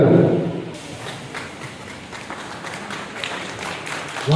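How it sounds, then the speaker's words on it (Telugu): Audience applause for an award-winning RTC bus driver from the Hyderabad 2 depot, a steady patter of many hands clapping at moderate distance, dense and sustained throughout with a brief louder swell at the start. "మనమందరం కూడా అతనికి గట్టి చప్పట్లతో అతనికి వెల్కమ్ చెప్పాల్సినటువంటి బాధ్యత మనందరికీ ఉందని"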